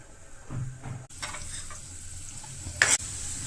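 Ginger and garlic dropped into about three spoons of hot oil for chilli chicken, a close frying sizzle with stirring scrapes and a loud clatter near the end.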